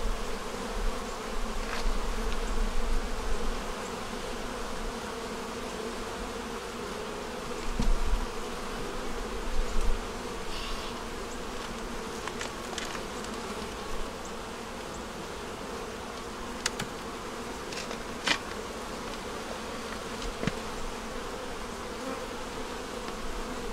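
Honey bees crowd hive frames holding eggs and larvae, their steady droning hum continuous and close throughout, with a few louder low thumps and brief swells from handling.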